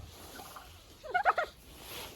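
A turkey gobbles once on a farm, a quick warbling burst of rapid pulses near the middle, fairly close over a faint background.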